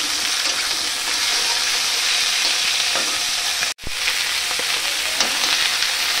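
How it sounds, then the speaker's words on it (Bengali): Onion and green chili fry lightly in a pan with a steady, close sizzle and occasional stirring scrapes, broken by one brief pause partway through. "এবার এই পেঁয়াজ আর কাঁচা লঙ্কা এটা দিয়ে দেবো, একটু ভেজে নেব হালকা করে।"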